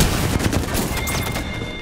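Loud, dense gunfire from the Apex Legends video game, a sustained barrage of overlapping shots with booming low end filling the whole moment.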